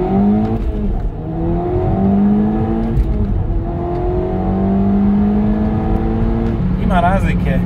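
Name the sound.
Audi S3 2.0 TFSI engine accelerating, with downpipe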